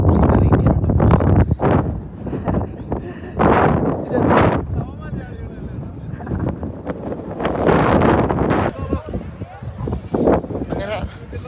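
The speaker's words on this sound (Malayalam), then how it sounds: "നല്ല തണുപ്പുണ്ട്, നല്ല കാറ്റ്, തണുത്ത കാറ്റ്." Strong cold wind at Sonamarg, Kashmir, roars in heavy gusts that swell and fade, buffeting the microphone close up, while people talk intermittently over it.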